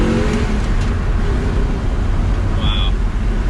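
An Audi R8 V8 with manual gearbox drones steadily through open windows while driving, a continuous low engine rumble with road and wind noise throughout.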